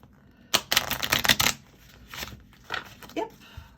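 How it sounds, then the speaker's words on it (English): A Fantastic Beasts playing card deck being shuffled: a quick burst of crisp riffling flutters, followed by a few softer card taps and slides, close and fairly quiet. "Shuffles just fine, not a problem."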